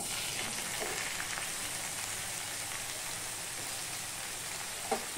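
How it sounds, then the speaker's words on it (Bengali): Chopped pumpkin greens frying in oil in a pan, a soft even sizzle like light rain, fairly quiet and continuous, with a small knock near the end. "এই তেলের মধ্যেই আমি যে শাকটা কেটে রেখেছি সেটা আমি দিয়ে দিচ্ছি"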